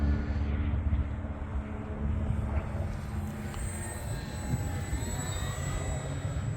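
A full-scale Bearcat airplane passes overhead, its engine a steady broad drone with a faint whine that swells slightly and fades, continuous throughout with no talking.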